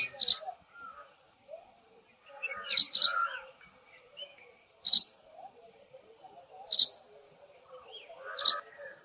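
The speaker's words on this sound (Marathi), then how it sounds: "विणीच्या हंगामात नर पक्षी एखाद्या झुडपावर किंवा तत्सम उंच जागेवर बसून मादीसाठी साद घालतो." A male bird calls for a mate during breeding season, giving sharp, high chirps repeated at intervals of about two seconds, clear and close against a quiet background.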